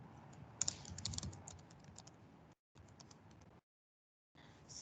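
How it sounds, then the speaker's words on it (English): Fast typing on a computer keyboard while scheduling a Microsoft Teams meeting, a dense run of close clicks that breaks off with short silent gaps, no speech. "you can type details here"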